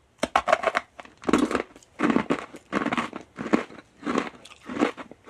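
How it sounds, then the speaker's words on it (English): Crystal candy and cotton candy are crunched and chewed up close, six loud, crackly bursts of crunching in a steady rhythm with short pauses between, and no voices. "These are the crunchiest crystal candies I have ever tried."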